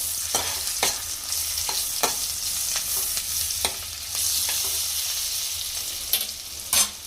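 Garlic fries in a pan for a steamed egg curry with a continuous crackling sizzle, broken by repeated scraping strokes of a spatula as it is stirred, close and fairly loud.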